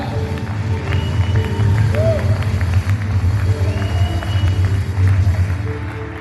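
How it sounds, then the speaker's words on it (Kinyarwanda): A worship event crowd claps and cheers for Jesca Atubwiye in steady, dense applause that carries at an even level for the whole stretch, with no one speaking over it. "Reka tubabwire amashyi cyane"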